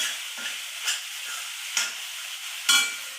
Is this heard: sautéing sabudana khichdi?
yes